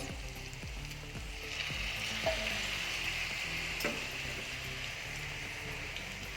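Cauliflower stir-fried in a pan with capsicum, a steady sizzle running throughout with repeated scrapes and clacks of a spatula turning the florets, close and moderately loud, with no talking.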